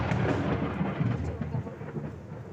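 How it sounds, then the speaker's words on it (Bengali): Thunder rolls low and heavy through a downpour of rain, a continuous rumbling swell that stays loud before fading slightly, with the hiss of rainfall running underneath. "মেঘ ডাকছে, প্রচুর পরিমাণে মেঘ ডাকছে।"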